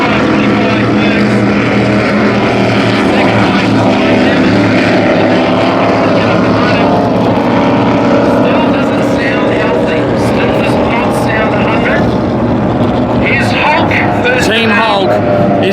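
Roaring engines of offshore superboats, including Mercury 525s, drone loudly and continuously as they race on Lake Macquarie, with a commentator talking over the noise.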